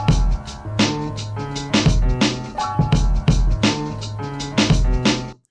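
A looping piano phrase with a steady drum beat underneath: kick thumps and snare hits repeating in a regular groove, loud and full, no talking.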